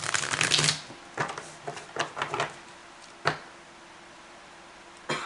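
Morgan Greer tarot deck being shuffled by hand, a quick burst of riffling card flutter followed by scattered soft taps and slides of cards, close and fairly quiet.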